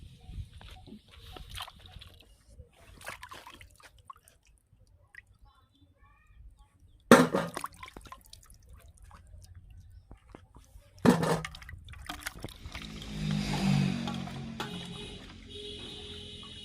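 Goat legs are washed in hot water, with sharp splashes and sloshing up close. Two loud splashes stand out against quieter handling noises, followed by a stretch of running, sloshing water.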